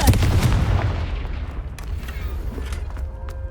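A Confringo blasting spell explodes in Hogwarts Legacy, a loud deep boom at the outset that rolls away into a long, fading rumble.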